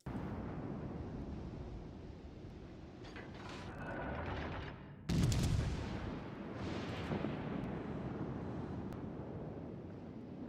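A loud gunshot from a video game, a single sharp blast about midway through, standing out over continuous mechanical game noise and rumble.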